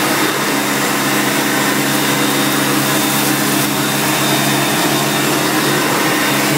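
1990 Electrolux 616 vacuum cleaner running steadily while cleaning edges on sawdust, a loud, close, continuous motor roar with constant airflow hiss and no talk.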